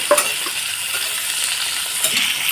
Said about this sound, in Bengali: প্রথমে একটু রসুন কুচি দিয়ে দিলাম, তারপরে কাঁচা লঙ্কা কুচি দিয়ে একটু হবো